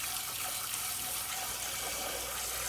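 A kitchen sink sprayer runs water steadily into a bowl for washing green beans, a loud continuous hiss at close range with no pauses and no speech.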